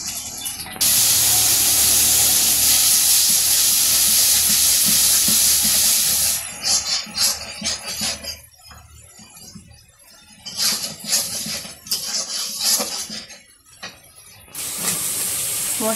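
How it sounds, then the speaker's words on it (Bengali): Turmeric, ginger-garlic paste, chili and salt sizzle loudly as a spice mix sautés in a pan in a Bangladeshi village kitchen, a steady hiss that later breaks into uneven crackling bursts before swelling again. "হলুদ, আদা রসুন বাটা, লবণও দিয়ে দিল। এখন মশলাটা ভালো করে কষাই নিব।"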